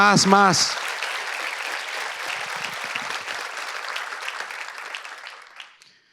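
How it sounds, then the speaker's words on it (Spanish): A church congregation applauds God during a sermon, with a brief voice at the start before dense, sustained clapping fills the room and then tapers off near the end. "si ese aplauso es para Dios, por favor, dáselo más fuerte"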